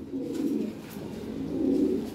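Lahore Siraji pigeons coo in two low, rolling phrases, close and clear, with a short pause between them and no talking.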